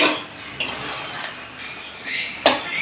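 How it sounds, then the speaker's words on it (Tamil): Squid thokku being stirred in a pan, with a spoon scraping and clinking against the metal in a few brief strokes against a steady sizzle, close and moderately loud. "இப்போ ஓப்பன் பண்ணி லைட்டாக அப்படியே கிண்டி விட்டுக்குருவோம்."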